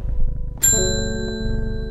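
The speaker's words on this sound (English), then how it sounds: "Hit the bell again." Shop counter bell struck once in the video game Strange Horticulture, a bright metallic ding that rings out and sustains with a long, slowly fading tone over low background music.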